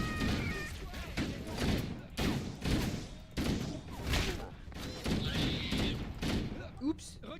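Bursts of gunfire from the video game Halo: Combat Evolved repeat throughout the clip, loud and close, mixed with impacts and game effects, while players talk over the shooting.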